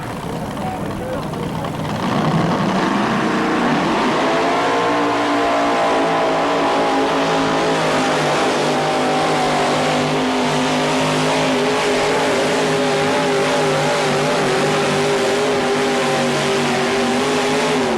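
A naturally aspirated pulling engine roars loudly and steadily under full load during a full pull at a 1987 pulling event, its pitch climbing and holding high, with a commentator's voice over the top.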